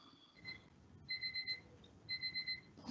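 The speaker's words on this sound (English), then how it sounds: "Can everybody else hear that beeping sound?" Faint electronic beeping in quick bursts of several high-pitched beeps, separated by short pauses, with no speech, heard during a council development management committee meeting.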